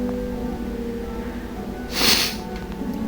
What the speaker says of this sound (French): J'ai le nez bouché, donc c'est pour ça que je respire bizarrement parfois. Enfin, je fais des reniflements.